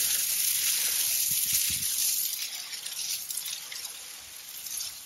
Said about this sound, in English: Let's just go ahead and add some water to that.